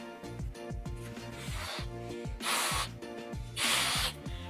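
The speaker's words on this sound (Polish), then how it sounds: "ledwo jednego balona mogę napompować" A hand pump inflates a balloon in rhythmic strokes, each push a short whooshing puff repeating over a steady beat of background music, with two longer airy hisses near the end.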